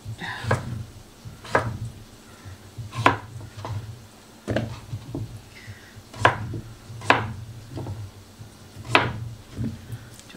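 An onion is chopped on a board, the knife striking in sharp, irregular chops close by, with some quieter rustling between strikes.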